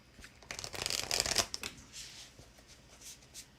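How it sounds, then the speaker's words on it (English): Muse Tarot cards riffle and slide in a burst of brisk shuffling, loudest around the first second and a half, then softer intermittent rustles and taps as the deck is handled up close. "let me do a nice shuffle for you"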